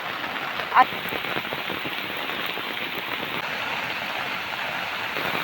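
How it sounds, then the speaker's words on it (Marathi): Heavy rain pours steadily onto a surface, a dense patter close by, with one sharper knock early on. "एकदा काय तो पाऊस चालू झालाय ना, तिथून जायचं नावच नाही घेत"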